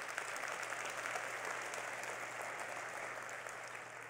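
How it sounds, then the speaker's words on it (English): Large keynote audience at a business software conference applauds in a steady, even wash of clapping that holds for four seconds over a faint hum. "Give them a round of applause as well."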